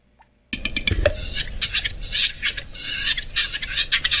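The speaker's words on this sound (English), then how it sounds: "Any type of raptor sounds like a bird, basically." Reconstructed raptor dinosaur calls such as a Utahraptor, rendered as bird-like sounds: a rapid, close series of shrill squawks, chirps and chatters running continuously after a sudden start.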